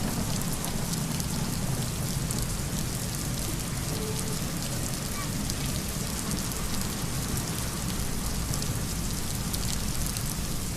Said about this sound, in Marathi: विजांच्या कडकडाटासह जोरदार अवकाळी पावसाने हजेरी लावली आहे